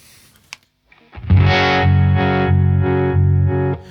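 A guitar runs through a Jam Pedals Harmonious Monk harmonic tremolo pedal in intense mode: after a brief pick noise, a loud sustained chord throbs in deep, steady pulses for a few seconds, then cuts off.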